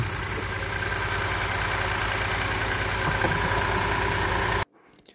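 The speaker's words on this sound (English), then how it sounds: "the engine is very loud" A Kia Sorento or Sedona (2015–2021) engine runs after a spark plug replacement, heard as a loud, close, steady drone that stops abruptly near the end.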